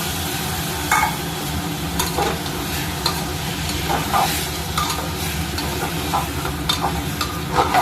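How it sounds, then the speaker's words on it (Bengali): Broken wheat (dalia) for khichuri fries and is stirred in a pan with a steady loud sizzle, while the spoon scrapes the pan again and again, up close. "এবার দিয়ে দেবো এই যে ডালিয়াটা"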